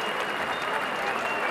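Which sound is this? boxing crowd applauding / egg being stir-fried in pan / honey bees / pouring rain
boxing crowd applauding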